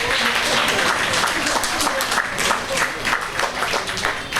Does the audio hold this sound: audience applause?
yes